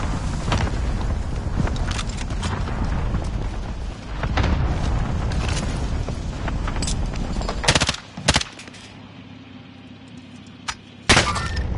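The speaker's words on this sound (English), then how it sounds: "Allied cluster strike arriving." Rapid blasts of an allied cluster strike in a Call of Duty match, a dense rumbling barrage of explosions with sharp separate booms near the end, loud and close.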